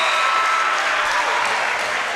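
Basketball crowd at an Orrville at West Holmes high school boys game erupts in loud, steady cheering and applause after a made free throw, a dense roar of hands and voices that holds for about two seconds.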